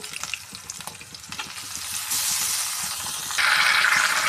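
Dried chillies, green chillies, curry leaves and raw mango are fried in hot oil for mango pulihora, making a close crackling sizzle with stirring taps that grows louder and hissier as more ingredients go in.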